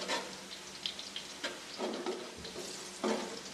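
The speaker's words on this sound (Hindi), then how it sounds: "इस मौके पे हम गरम मसाला इसमें डालेंगे और फ्राई करेंगे।" Onions and whole garam masala fry in a pot for chicken pulao, giving a steady soft sizzle with intermittent scraping stir strokes close by, no voices.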